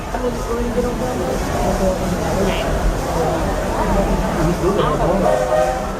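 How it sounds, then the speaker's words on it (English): Two faint, brief whistles from a Walt Disney World Railroad train sound in the distance, a couple of seconds apart, beneath a steady rumble and a conductor talking. "those two whistles up ahead mean we're cleared for departure"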